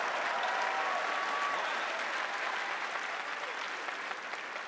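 Sustained applause from a large audience at a university freshman convocation ceremony, steady and dense throughout, slowly tapering toward the end with no talking over it.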